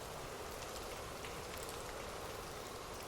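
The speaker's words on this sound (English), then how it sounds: "drift off to sleep with rain" Steady rain falls, a dense, even hiss of drops that stays constant and soft throughout, with no voices.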